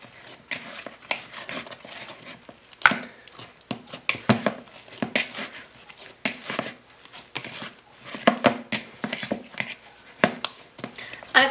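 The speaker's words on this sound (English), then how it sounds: "Now I'll knead this dough once again." Hands kneading oiled naan dough in a bowl, giving soft, irregular squelching and slapping pulses close by, repeating steadily without talk.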